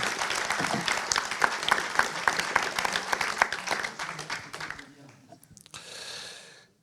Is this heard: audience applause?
yes